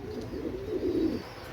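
A single soft, close coo from imported-bloodline Pakistani pigeons kept for sale, a low rolling call lasting about a second against quiet background.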